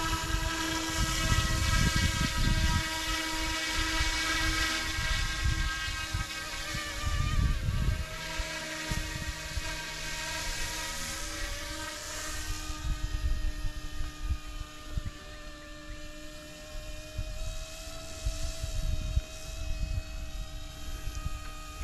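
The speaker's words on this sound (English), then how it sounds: "This helicopter in manual mode will do a very sharp turn" A Yuxiang F09 BlackHawk RC model helicopter flies at an outdoor field on a breezy day, its steady whining rotor and motor drone rising and falling in pitch as it manoeuvres, with gusts of wind rumbling through.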